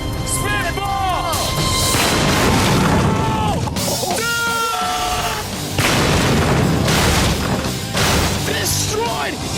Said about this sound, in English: That spitball is gonna blast right through that blackboard and the concrete wall.